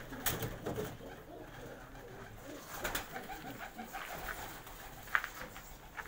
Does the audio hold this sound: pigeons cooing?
yes